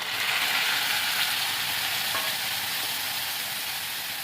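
Ground shallot paste frying with curry leaves in a pan for pepper chicken gravy, a steady, fairly loud hiss of sizzling oil running unbroken throughout with no voices.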